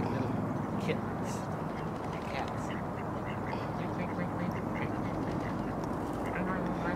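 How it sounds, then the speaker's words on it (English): Ducks quacking at Burnaby Lake amid a steady wash of outdoor ambience, the calls faint and scattered under continuous background noise, with people chatting nearby. "Ducks are cute, eh?"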